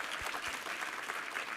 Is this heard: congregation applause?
yes